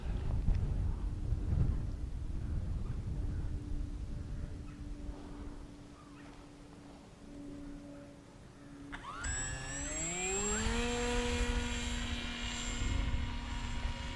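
A Bixler 2 foam RC airplane flies overhead: a faint steady motor whine first, then a louder rising and falling propeller drone as it passes nearby.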